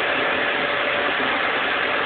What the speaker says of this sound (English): It's a quiet running air compressor